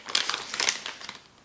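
Close, brief crinkling of the thin plastic bag holding a K6000 dashcam, a few quick rustling bursts that fade out after about a second.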